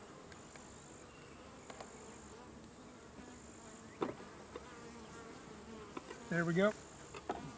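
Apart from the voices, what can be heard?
honeybees buzzing during hive inspection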